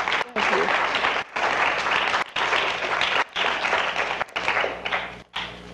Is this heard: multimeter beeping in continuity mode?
no